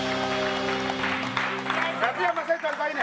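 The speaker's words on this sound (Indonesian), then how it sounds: "Tuh, tepuk tangan." A studio audience at an Indonesian comedy show claps after a gag, a short ragged burst that rises as the voices and music ahead of it fade.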